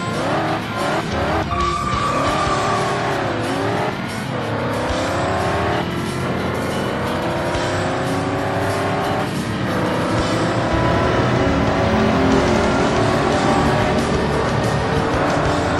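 Ford Racing 2 race car engines on Xbox roar and rev with rising and falling pitch, layered with tire skids and squeals, loud and continuous from start to finish with no speech.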